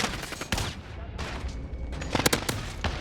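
An AN-94 rifle in a video game fires in two-round burst mode: loud, sharp, rapid clustered shots, with a tight run of bursts near the end.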